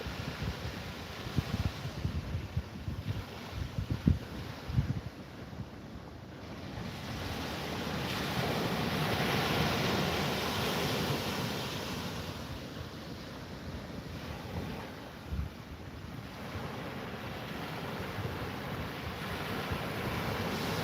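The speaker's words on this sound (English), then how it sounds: "you can listen to the waves a bit more" Ocean waves wash and roll in a continuous surf roar, swelling and easing over about twenty seconds, with gusty wind buffeting the microphone and a few sharper splashes early on; no one speaks.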